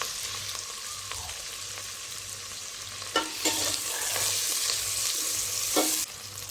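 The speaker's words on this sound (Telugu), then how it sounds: "కొద్దిగా దూరగా వేయించుకోవాలి, పచ్చి వాసన పోయేంత వరకు" Gongura curry ingredients fry in a pan, giving a continuous soft sizzle broken by several sharp spoon scrapes and taps as the mixture is stirred.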